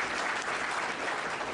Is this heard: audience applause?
yes